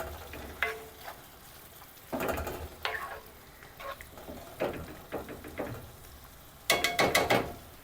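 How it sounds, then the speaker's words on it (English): Scattered bursts of sizzling and scraping as pork strips are stirred in an Instant Pot, with quieter frying hiss between the stirs. "Mixing that because I want the rest of it to start frying"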